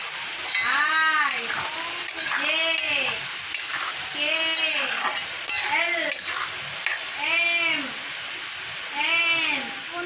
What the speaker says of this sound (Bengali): মেখে এই যে কড়াতে দিয়ে দিচ্ছি মশলাটা একটু কষা কষা হলে মাংসটা দিয়ে দেবো